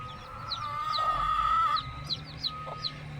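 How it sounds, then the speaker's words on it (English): Many chickens and roosters in a backyard flock, with a rooster crowing up close while hens cluck and squawk in short repeated bursts around it. "So you want to know when you have too many chickens?"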